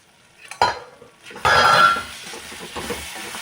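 Softened tomato masala for paneer kurma being stirred in a pan: a few close scraping and shuffling strokes of a spoon against metal with a faint sizzle between them.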